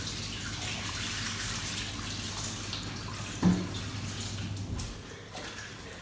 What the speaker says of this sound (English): And turn the tap back on if you can again with your elbow. Rinse the soap off.